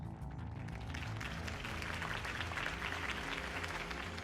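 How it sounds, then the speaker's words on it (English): Crowd applause at a campaign rally in the Batman Shadows Edition video game, a dense, steady wash of many hands clapping that holds throughout at moderate level, with no talk over it. "If only Mr. Wayne, my campaign's largest backer, could have heard that applause"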